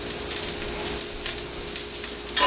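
Water bubbling and hissing in a pot, a steady close crackle of boiling with no talking.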